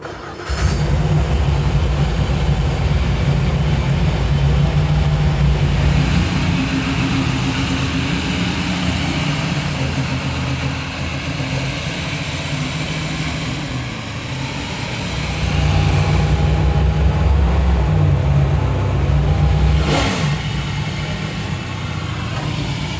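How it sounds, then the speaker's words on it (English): A 900 hp NASCAR-powered 1970 Plymouth Cuda idles loudly nearby, its deep lumpy rumble pulsing steadily with a few brief swells in revs, no talking over it. "This thing sounds just bitchin', as simple and plain as that."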